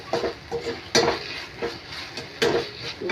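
Paneer chilli masala being stirred in a pan, with repeated spoon scrapes and clinks against the metal every half second or so and a faint sizzle beneath, close and moderately loud.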